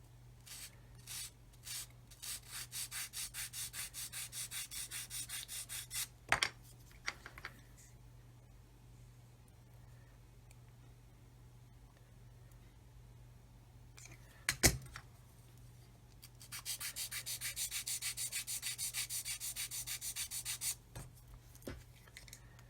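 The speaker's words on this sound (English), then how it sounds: "So I'm going to have to sand some more off of here because it's easier to do." A plastic part from a 1/35 scale HobbyBoss Land Rover Defender kit is sanded in two long passes of quick, rhythmic rasping strokes, close and fairly quiet, with a few sharp knocks and a quiet stretch between the passes.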